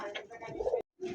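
Pigeons coo softly nearby in a short, low, throaty burst that breaks off and then starts again.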